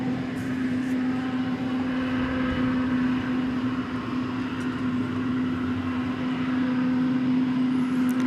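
A steady, loud roar of aircraft noise at DFW Airport fills the air with a constant hum at night, unbroken throughout, with no voices.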